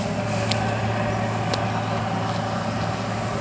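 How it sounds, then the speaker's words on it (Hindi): Borewell drilling truck running near a house in a village, a loud steady engine drone with a constant low hum and faint intermittent clicks, no voices. "गाड़ी का आवाज़ बहुत आ रहा है, बोरिंग वाला गाड़ी का"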